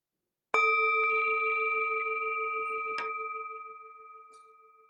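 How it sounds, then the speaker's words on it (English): A single meditation bell is struck once and its pure, resonant tone rings out and slowly fades, with a faint tap midway through the decay. "the sound of the bell returns us to our true home"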